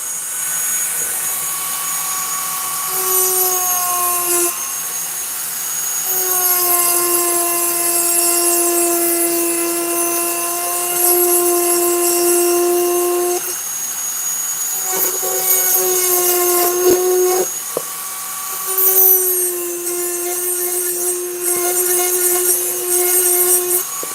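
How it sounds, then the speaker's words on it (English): A rotary tool fitted with a small ball burr carves poplar wood, a loud high-pitched motor whine that shifts pitch as it bites and eases, running nearly continuously with brief dips. "back at it with the second sized, smaller ball burr. Let's get a little work done."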